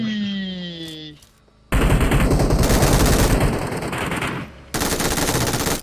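Loud automatic gunfire in a battle royale shootout game, sustained bursts near and harsh, broken by a short pause after a tonal chime at the start, with a voice speaking briefly.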